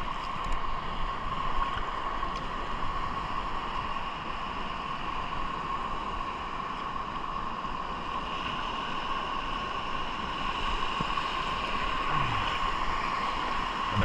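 Big waves wash around a small fishing boat at sea, with a steady engine-like hum and wind buffeting the microphone, a continuous churning roar with no voices.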